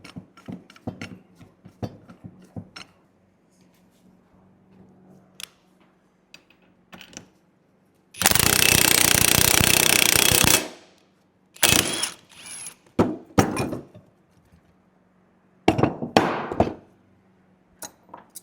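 A seized U-joint cap is forced out of a heated Jeep JK axle shaft with a press, with scattered sharp metallic clicks and knocks, one sustained loud grinding burst lasting a couple of seconds, then more clanks and bangs.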